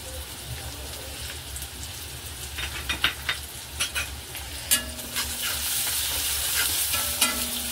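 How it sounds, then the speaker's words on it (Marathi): Garlic, finely chopped ginger and four or five chopped green chillies fry steadily in hot oil for Schezwan chutney, with a constant close sizzle and sharp scraping clicks of a spoon stirring the pan at irregular intervals. "लसूणाला चांगला कलर येईपर्यंत मस्त याला आपण असं फ्राय करायचं, हलवत राहायचं"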